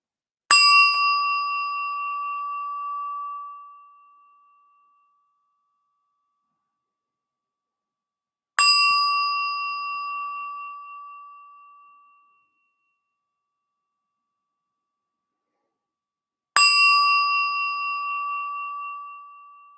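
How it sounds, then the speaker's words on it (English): A meditation bell is struck three times at long, even intervals, each clear ring sounding alone in silence and fading slowly over several seconds. "The sound of the bell immediately draws our attention."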